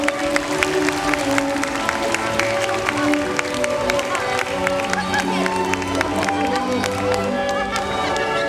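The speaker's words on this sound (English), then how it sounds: "Let's give a big round of applause again for all our graduates." Audience at a graduation ceremony applauding the graduates, a continuous clatter of many hands with crowd murmur beneath, sustained steadily across the whole stretch.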